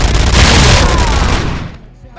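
A loud, dense burst of rapid gunfire from the video game Robocop Rogue City, close and overwhelming for under two seconds before cutting off into near quiet.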